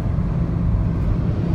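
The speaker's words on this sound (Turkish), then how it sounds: "Tabii rüzgar sesi arttı." Steady broadband wind rush and road roar inside a Citroen C-Elysee cruising at 120 km/h, a continuous loud low-heavy drone with no break, heard from the cabin.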